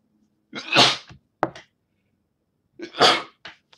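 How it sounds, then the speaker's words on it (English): One person sneezes twice, close and loud, with a short catching breath after the first sneeze and quiet between them. "I'm gonna sneeze"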